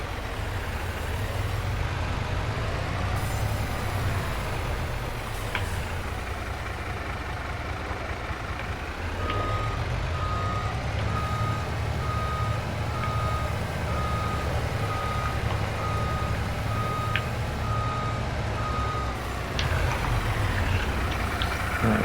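A truck in Farming Simulator 22 idles steadily while its reversing alarm beeps in an evenly spaced, continuous rhythm over the engine rumble.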